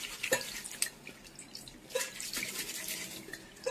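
A piece of cloth is soaked in water and worked by hand, giving soft, faint drips and small splashes at irregular moments over a quiet background.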